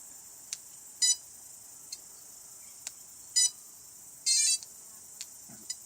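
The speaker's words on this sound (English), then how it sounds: "You hear that loud beep, which lets you know when the battery's low." Beeps from a Hex drone as its battery is connected: several loud, short electronic tones, including a longer double beep, spaced irregularly with faint clicks between them in an otherwise quiet room.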